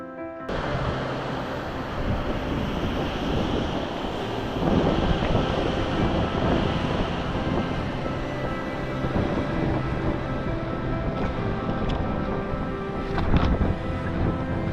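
Steady rushing roar of a river flowing in Kings Canyon National Park along the John Muir Trail, broadband and continuous, with some wind buffeting the microphone and no talking.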